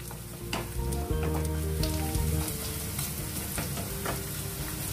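Onions frying in a pan for an Indian-style fish curry, a steady loud sizzle with occasional stirring scrapes, close up and without talk.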